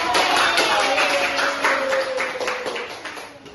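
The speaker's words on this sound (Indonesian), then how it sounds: "Oke, beri tepuk tangan untuk kelompok 2." An elementary school class claps for a student group, a brief burst of many hands applauding close by that fades out after a few seconds.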